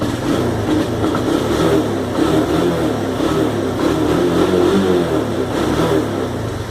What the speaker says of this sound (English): And it revs up good.